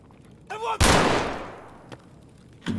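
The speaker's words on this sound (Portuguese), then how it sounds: "Cara, tem tanto tiro" Loud gunfire in the video game Escape from Tarkov: one sharp, close shot with a long ringing decay, a softer crack just before it, and another shot near the end.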